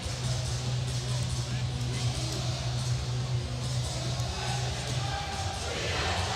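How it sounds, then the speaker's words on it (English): Crowd murmur at a high school girls' volleyball match between Pierre and the Yankton Gazelles, a steady indoor gym hum with a busy student section, heard under a play-by-play announcer's voice throughout. "Good crowd on hand."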